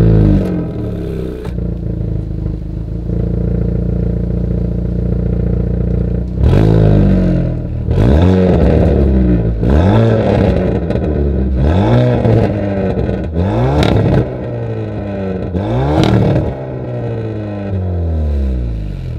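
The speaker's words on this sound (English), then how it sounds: "As always, here is that exhaust clip." A 2021 Hyundai Veloster N engine idles with a deep rumble, then revs hard several times in quick succession, the exhaust roaring up and falling back each time.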